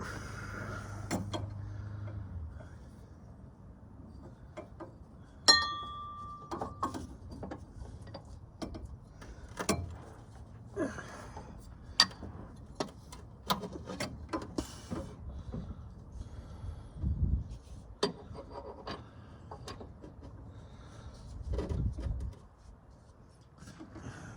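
Scattered metallic clicks, ratcheting and clunks of a washer and bolt being fitted for a Black Raptor steering dampener, irregular and close, with quiet gaps between bursts and no talking.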